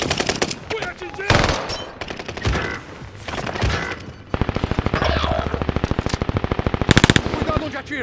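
Gunfire in the video game Warzone, with scattered single shots and short bursts followed by a long, rapid automatic volley, loud and close, with game voice lines spoken in between.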